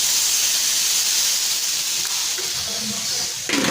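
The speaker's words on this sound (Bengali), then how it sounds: "এই যে পটল তরকারিটা জল দিলাম" Water poured into a pan of sizzling pointed gourd curry gives a loud, steady hiss and steam that drops slightly toward the end, then a burst of bubbling.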